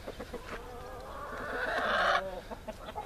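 Chickens cluck softly in a coop with a rooster, then a longer rising call swells and cuts off, close but fairly quiet morning farmyard sounds.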